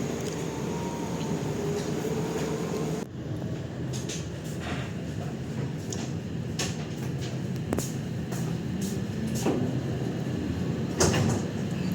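A Lodaya passenger train with stainless steel new generation carriages stopping at Sidareja station: a steady rumble from inside the car, an abrupt shift partway through, then scattered clicks and knocks from doors and fittings.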